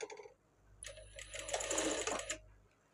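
Sewing machine stitching a blouse front piece, a short run of fast mechanical needle clatter that rises and stops after about a second and a half, close and fairly quiet.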